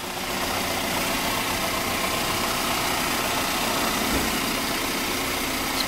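A 2015 Chevrolet Colorado pickup's four-cylinder engine idles close by, steady and quiet, a smooth continuous hum with a faint low rumble and no voices.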